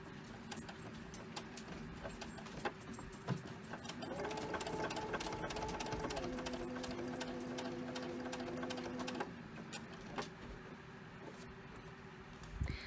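A sewing machine stitches elastic onto a children's Olson fabric mask, its motor whirring in steady bursts that rise and fall in pitch, with light clicks and handling noises between runs; no one talks.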